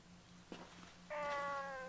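A cat meows once in the Fragile Dreams video game, a clear, loud, drawn-out tone that follows a softer earlier sound, set over a low steady game hum.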